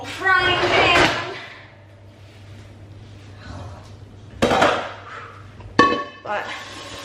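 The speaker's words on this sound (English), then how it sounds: "A good old frying pan." A frying pan and pots clank and clatter on a home stove while spaghetti and meatballs are cooked, with a few sharp metallic knocks near the end and some talking at the start.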